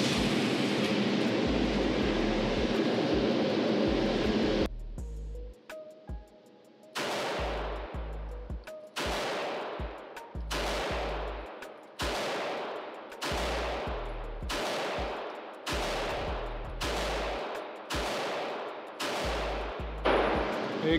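An Atlas Athena pistol fires ten rounds at a target 10 yards away, loud close shots arriving in a steady cadence of roughly one per second after a noisy opening stretch, each blast decaying quickly, no talking over them.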